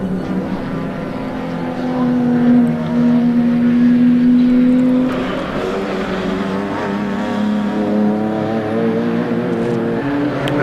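Renault Clio race cars on a racing circuit, a steady loud engine drone with rising and falling pitch as the cars run close together and pass, continuous throughout with no talking.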